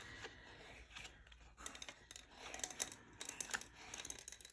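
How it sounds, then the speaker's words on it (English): Scissors trim excess yarn, giving quiet, close snips and rustles that come in uneven bursts, with no talking. "you can certainly use your scissors and trim it off"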